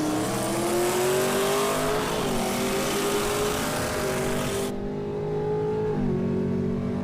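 Street race cars, a Cadillac CTS-V and a Mustang, accelerate hard in a Texas street race, with loud engines revving up through rising gear pulls and a clear shift near the end.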